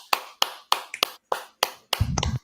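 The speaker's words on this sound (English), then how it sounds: "give Guess Nordeeka a round of applause, everybody" Sharp, close hand claps for a student singer's debut during a live class, about eight single claps in a steady rhythm, followed by a short hum of sound at the end.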